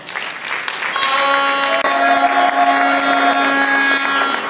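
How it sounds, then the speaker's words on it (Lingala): Sustained audience applause fills a ceremony hall, loud and continuous, with a held musical tone sounding underneath from about the first second onward. "Oui, il mérite nos acclamations."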